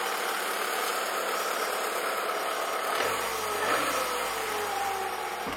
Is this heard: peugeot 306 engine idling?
yes